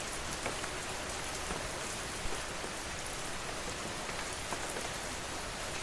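Gentle rain falls steadily, an even hiss of drops on surfaces with faint scattered patters and no voices, continuous and moderately loud throughout.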